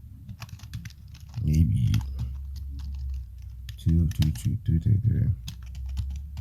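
Computer keyboard typing in a code editor comes in quick clattering bursts of keystrokes, close and clear, alternating with someone talking.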